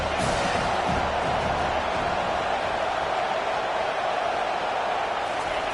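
Dense football stadium crowd at Ohio State versus Penn State, a sustained loud roar of cheering and noise that holds steady throughout with no break.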